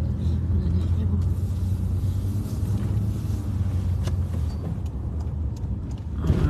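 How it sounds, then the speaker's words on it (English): A tour bus rolls past at the Sovereign Hill car park in Ballarat, Victoria, a steady close rumble that holds for several seconds, with faint voices underneath. "That's tour bus."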